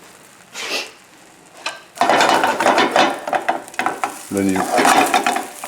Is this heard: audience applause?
no